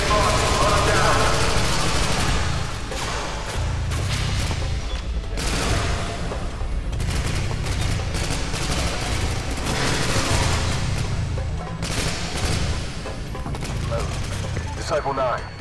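Gunfire in the Call of Duty Modern Warfare 2 video game forms a dense, continuous clatter of rapid shots and booms over a loud rumbling background, with voices calling out amid the firing.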